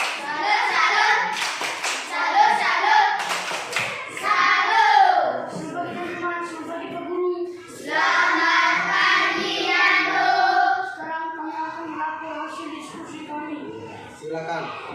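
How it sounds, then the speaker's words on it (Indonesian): Schoolchildren in a classroom perform a rhythmic 'tepuk salut' clap, sharp hand claps in patterned bursts mixed with children's chanting and talk, then a teacher speaks between further claps. "Tepuk salut."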